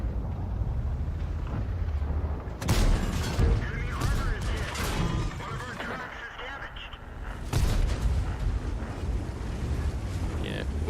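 Tank cannon fire and shell explosions in World of Tanks 1.0 during an outnumbered battle: dense rumbling battle noise with two sharp, loud blasts a few seconds apart, continuous mechanical drone between them, no speech.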